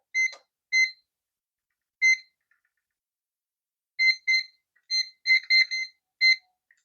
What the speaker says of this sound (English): Why does it give me a beep there?